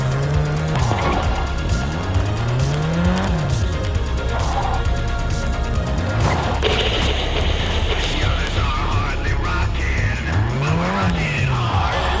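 A car in the video game Gangstar IV drives with a loud, continuous engine roar while its tires squeal in several long skids, revving and sliding over game music.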